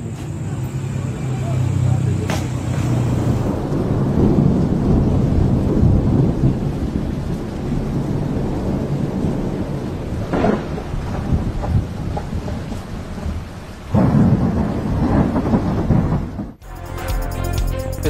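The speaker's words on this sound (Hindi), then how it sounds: "बादलों का टुकड़ा कुछ देर तक गरजने चमकने के बाद बगैर बारिश ही गुजर गया" Thunder rumbles from a passing cloud over the G11 sector of Islamabad during a storm without rain, a long continuous low roll with a few sharper cracks, loud and close.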